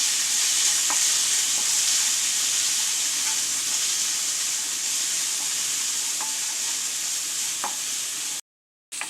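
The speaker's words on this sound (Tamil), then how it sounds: "இது எல்லாத்தையும் நல்லா வதக்கிக்கலாம்." Close, steady sizzling of vegetables sautéing in a hot pan with occasional scrapes of stirring, continuing evenly before stopping abruptly.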